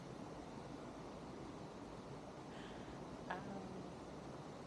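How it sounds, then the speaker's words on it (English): A small river waterfall in San Agustin, Costa Rica, makes a continuous rushing, splashing wash of water, steady and moderately loud with no voices over it. "there's a small waterfall, and she's leaning back into it."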